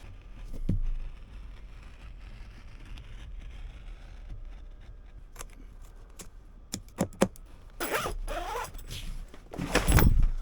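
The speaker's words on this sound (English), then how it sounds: "I'll zip it together." A zipper on a handmade mohair tonneau cover for a 1928 Ford Model A Roadster is pulled closed, with quiet handling noises first and then loud, close rasping zip strokes near the end.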